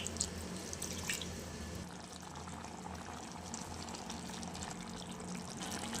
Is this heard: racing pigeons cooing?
no